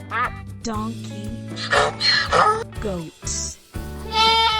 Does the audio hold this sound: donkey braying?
yes